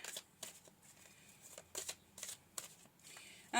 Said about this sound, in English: I'm going to pull some cards to clarify.